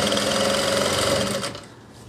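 A sewing machine runs fast over a kurta collar, a loud, dense mechanical whir that holds steady and then stops abruptly, leaving a quiet tail.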